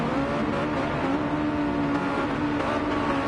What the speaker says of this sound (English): So the revs are up.